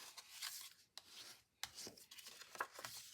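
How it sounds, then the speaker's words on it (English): Paper gets folded along score lines and burnished, soft close rubbing and scraping strokes with a few quiet taps, all faint and intermittent. "I'm going to go ahead and fold and burnish all my score lines"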